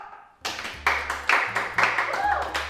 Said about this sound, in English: Now, can we have a round of applause for Finn?